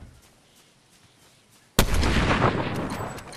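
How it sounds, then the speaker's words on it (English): A sudden loud blast of Fortnite gunfire or an explosion breaks a quiet stretch of faint ticking, then a dense, noisy roar rings on and slowly fades. "Oh, he's shooting behind."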